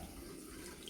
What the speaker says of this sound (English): I've got the tap on in the bathroom